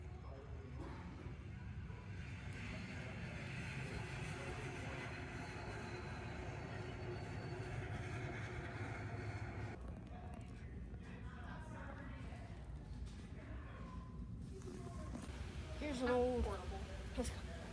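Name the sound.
train whistle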